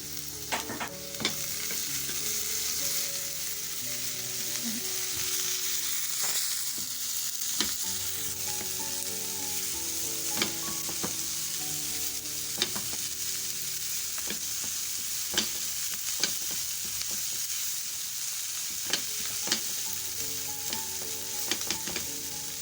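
Peppers fry in a hot pan with a constant close sizzle, broken by occasional clicks and scrapes of stirring throughout.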